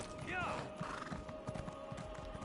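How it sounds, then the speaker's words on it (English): A game horse on PS4 whinnies with a bright, wavering call, while steady hoof clops and other game sounds carry on beneath it. "Let me bring out my pony!"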